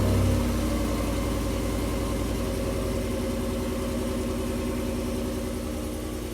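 2021 Chevrolet Tahoe Premier with its factory exhaust idling, a deep, steady low rumble with an even pulsing throb, close and continuous, fading slightly toward the end with no voices.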